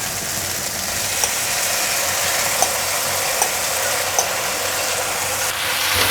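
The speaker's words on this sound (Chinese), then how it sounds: "快速翻炒。" King oyster mushrooms being stir-fried quickly with pumpkin and seasoning over medium-high heat, a steady close sizzle with rapid stirring and a few light clicks of a spatula against the wok.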